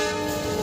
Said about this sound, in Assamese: ট্ৰেইনটো আহি ৰখি গ'ল।